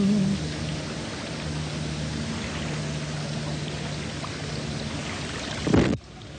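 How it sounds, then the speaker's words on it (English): Water flows in a steady, rushing wash that holds at an even level, ending in a brief louder burst and a sudden drop. "Just the sound of water is magic."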